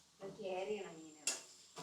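A spoon stirs kera fish pickle in a pan, giving a couple of sharp metallic clinks and scrapes after a soft murmur-like stretch; quiet and close.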